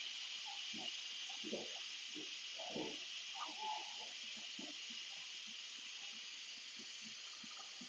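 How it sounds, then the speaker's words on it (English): An Instant Pot vents its pressure in a steady, strong hiss of escaping steam that runs throughout, with faint soft clunks and knocks beneath it. "So Cersei's releasing the steam from her Instant Pot."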